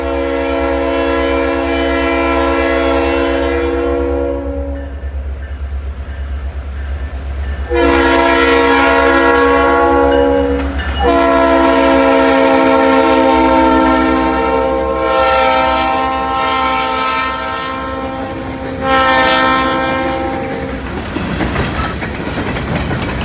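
A South Shore Line train passes close by, sounding its horn in several long blasts with short gaps between them over the steady rumble and rail clatter of the cars.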